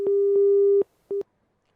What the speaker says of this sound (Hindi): फोन काट दिया उन्होंने